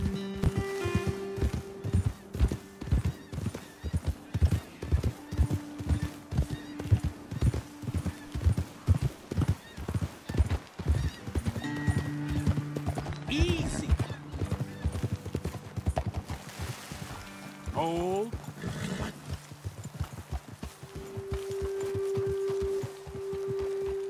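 Horses in the Red Dead Redemption 2 video game clip-clop steadily at a walking pace, with a brief neigh partway through over a layer of game music.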